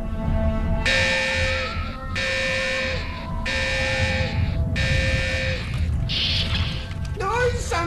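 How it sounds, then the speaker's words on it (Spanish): A cartoon satellite's emergency alarm sounds four loud, evenly spaced electronic blares over a busy, noisy background, followed by warbling and sliding synthetic effects. "Algo activó el sistema de alarma de emergencia del satélite."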